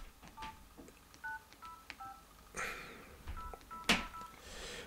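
Keypad tones sound from an LG KF600 mobile phone as a number is typed: a series of short, quiet paired beeps spaced a fraction of a second apart, close up, with faint handling clicks between them.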